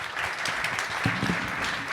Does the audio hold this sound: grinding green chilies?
no